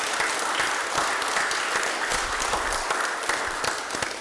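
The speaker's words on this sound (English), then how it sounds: "if everyone could give them a round of applause" An audience at a county commission meeting applauds military service members, a steady loud wash of many clapping hands sustained throughout with a faint low rumble partway through.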